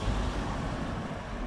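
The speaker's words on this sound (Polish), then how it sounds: "Na mosty pomorskie wjeżdżają autobusy," Buses, cars and delivery vans drive onto the Pomorskie Bridges in Wrocław, making a steady, dense traffic rumble with heavy low engine noise throughout.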